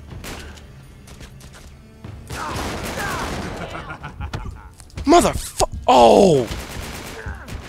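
Shotgun fire in the action video game Uncharted 3: Drake's Deception, a few sharp blasts mixed with game chaos, with a player's voice exclaiming over it.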